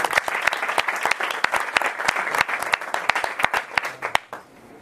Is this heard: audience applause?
yes